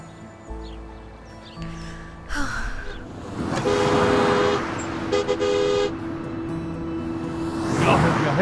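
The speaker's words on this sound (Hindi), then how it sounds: "हॉर्न नहीं सुन रहे हो तुम?" A car horn honks a couple of times in a street scene, short toots rising above traffic noise and background bustle, fairly close and loud.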